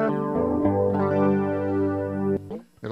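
Guitar chords played through a Ketron Midjay Pro effects unit, a sustained, rich chorused strum ringing for over two seconds before cutting off, with a brief quieter sound at the end.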